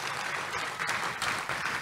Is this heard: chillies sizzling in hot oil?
no